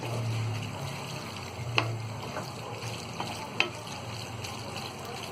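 Pasta in white sauce cooking in a pan as it is stirred, a soft continuous sizzle with a couple of faint spoon clicks against the pan, quiet and without talk.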